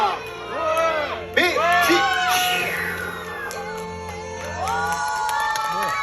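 An outdoor audience at a street magic and juggling show in Jochiwon erupts in cheering and excited shouting, with children's voices prominent. The noise swells, dips briefly in the middle, then rises again.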